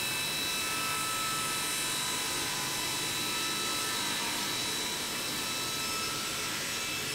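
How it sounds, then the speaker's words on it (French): An SCM saw rips a wooden board lengthwise, producing a loud, continuous high whine with a dense roar that holds steady and close throughout. "allumer la machine et à couper, à déligner pour être exact, la longueur de votre plateau pour enlever le flash"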